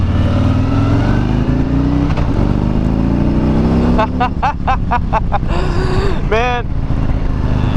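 A Harley-Davidson Street Glide with a 107 engine runs loud and close, a deep steady drone that swells, then a quick series of throttle blips and revs, with someone talking over it.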